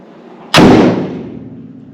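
One solid, muffled slam of a C10's door closing close by, with a brief decaying rumble afterward and no voices.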